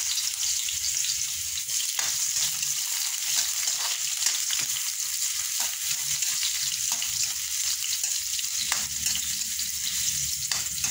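Ginger frying in a pan for native chicken sinampalukan makes a loud, continuous sizzle with occasional soft scrapes and taps from stirring.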